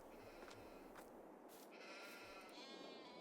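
Sheep bleating at a sheep farm in Farming Simulator 22, several short calls spread across a few seconds over a steady low background, fairly faint and with no talk.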